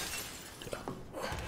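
Glass shattering in the video game Dead Island 2, a single short burst of breaking glass with a noisy, washed-out crash.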